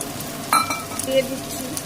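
Spice paste hits fried onions in hot oil for a chicken leg malai curry, with bay leaves and dried chillies in the pan. There is a short burst of sizzle and a couple of light metallic clinks from a utensil.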